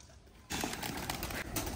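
Pigeons that have been colored and released. After a quiet start, a sudden loud burst of wing flapping and fluttering fills the space, with pigeon coos among the rustle.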